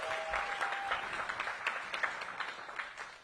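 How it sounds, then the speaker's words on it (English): An outdoor crowd at a ribbon cutting for an urgent care center in Washington, D.C. claps briefly for a council member, with soft, scattered claps at a modest level that thin out over a few seconds. "Give him a big round of applause."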